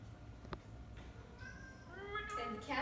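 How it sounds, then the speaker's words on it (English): Cats meow and yowl in rising, wavering cries, a few overlapping near the end, heard faintly under steady room noise alongside a voice talking. "And the cats are screaming."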